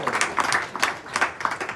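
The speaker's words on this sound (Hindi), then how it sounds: "जोरदार ताली बजा दो उसके लिए।" Audience clapping for a small child who completed a full chant at a devotional gathering, a steady patter of many hands sustained throughout at moderate loudness.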